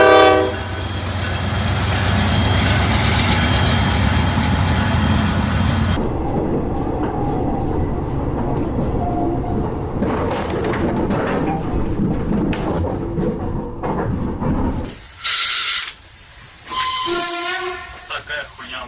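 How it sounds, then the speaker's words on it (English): A passing freight train near a Texas crossing: a loud, blaring horn at the start, then the rolling rumble and clatter of railcars going by, followed by further horn bursts near the end. "Flames erupted from a passing freight train near a Texas crossing"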